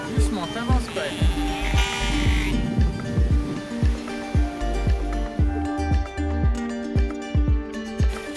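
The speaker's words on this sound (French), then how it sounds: "Je suis suivie par les moutons, ils me suivent partout." Sheep bleating repeatedly close by on an island off Norway, rhythmic calls over a low rumble of wind or surf, with a person talking in between.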